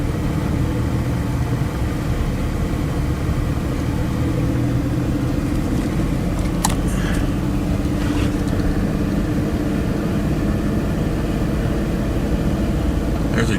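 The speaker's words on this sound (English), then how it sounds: "Look at all this traffic, man." Busy street traffic fills the air in a continuous loud wash of car engines and tire noise, with vehicles passing close by and a few faint higher clatters partway through.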